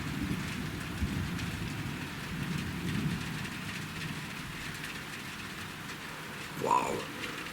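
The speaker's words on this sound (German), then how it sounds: "Und von der Schweiz her kommt jetzt ein ganz tolles Gewitter auf uns zu." A summer thunderstorm rolls toward Friedrichshafen on Lake Constance, with a steady hiss of rain, low distant rumbling, and a brief louder burst near the end.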